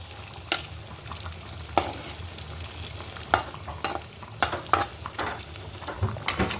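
Food sizzles and fries steadily in a pan, punctuated by repeated scraping clinks as the pieces are stirred and turned on both sides.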